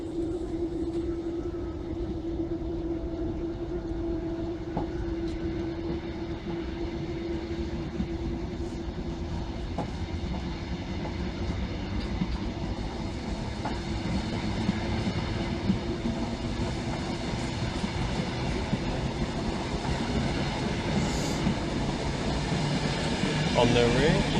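A Class 90 electric locomotive pulls a train out of Stowmarket station with a steady, droning rumble and faint whine that builds gradually, with a spoken narration running over it.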